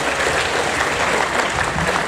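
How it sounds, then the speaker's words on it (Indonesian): An audience at a university admissions outreach session at UNS claps in a loud, sustained burst of applause that stays even for the whole moment. "Tepuk tangan buat kalian semua."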